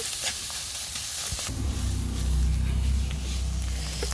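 Bathua greens with gourd leaves fry in a pan, a constant close hissing sizzle with soft stirring, joined halfway by a low droning hum.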